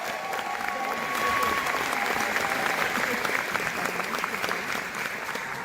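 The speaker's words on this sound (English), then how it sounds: "Scott got a louder round of applause than I did" A crowd at a live talk show event gives sustained, loud applause for Scott Presler, dense clapping that swells slightly and holds steady throughout, with some voices mixed in.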